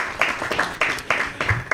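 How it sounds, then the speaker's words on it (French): An audience at a youth event launch claps in uneven bursts, several sharp rounds of hand claps rising and falling at moderate distance. "Ça s'applaudit, s'il vous plaît."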